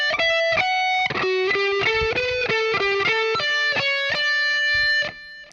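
Distorted electric guitar plays two chorus measures of a song, a fast legato string of sustained high lead notes with a bright, saturated tone, loud and close with no talking, cutting off near the end.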